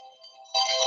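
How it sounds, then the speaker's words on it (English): A phone ringtone for an incoming call: a soft electronic tone that jumps to a louder, brighter burst partway through, short and close. "Apologies, someone on the phone."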